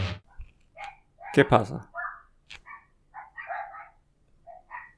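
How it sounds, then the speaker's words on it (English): Dogs barking at a distance in short, sharp bursts, with a cluster of yips near the middle and scattered barks afterward, while a person speaks briefly in between. "The dogs are barking."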